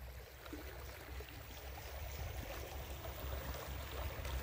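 Water running steadily in the Pintué stream in Chile below a bridge, a continuous broadband rush and gurgle with a low rumble underneath, moderately near and unbroken throughout, with no voices.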